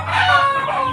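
A rooster crows in a single sustained, harmonically rich call with a low clucking undertone, close and loud throughout, on a backyard where a chicken is being treated for fowl pox.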